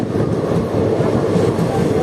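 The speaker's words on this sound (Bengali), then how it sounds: "one three zero four five মাইরাক্সি express train Tarapith road station crossing করে ফেলেছে" The 13045 Mayurakshi Express passes through Tarapith Road station, a steady, loud rumble of rolling rail cars heard from close by, with no voices over it.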